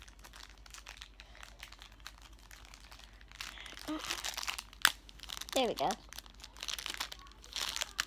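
A plastic blind bag from an LOL Surprise doll set crinkles and tears open in close, busy bursts, with a person talking briefly over the rustling.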